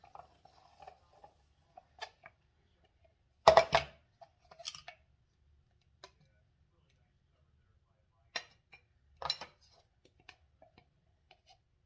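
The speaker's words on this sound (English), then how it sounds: "I'm just going to mix this peanut butter powder" Peanut butter powder stirred into cream in a small dish, heard as sparse, quiet scraping and clinking of a utensil against the dish, with a louder burst of clatter and longer silent gaps between strokes.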